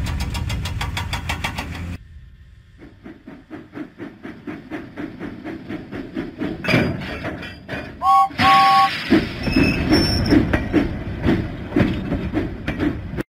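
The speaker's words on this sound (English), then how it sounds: "James pumped his pistons and puffed out of the docks." Steam engine in a Thomas the Tank Engine video game pulling out of the docks, rhythmic chuffing that speeds up and grows louder, a brief whistle toot partway through, and continuing rumbling puffs after it.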